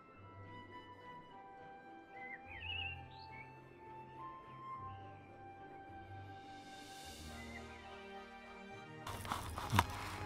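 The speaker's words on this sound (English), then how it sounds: "Lovely birds with a beautiful song." Garden birds singing at a garden bird feeder, faint scattered chirps and whistled notes over a quiet low background hum, distant and without talk, ending in a brief rustling clatter.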